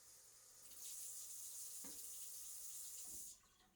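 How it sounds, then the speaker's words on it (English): Water runs steadily from a tap into a cup for a few seconds, a bright hissing stream that stops abruptly. "get some water here. I'm going to need 2 cups of water."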